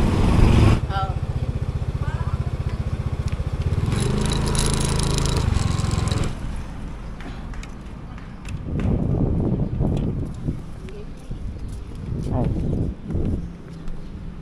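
A delivery rider's motorcycle, still not fully repaired after recent trouble, runs with a loud, steady engine drone for the first several seconds, then continues at a lower level with varying revs as the ride goes on.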